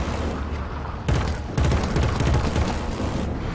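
Sniper gunfire in Killzone: Shadow Fall comes as a couple of sharp, loud shots with rolling booms, followed by a rapid burst of firing over a dense game soundscape.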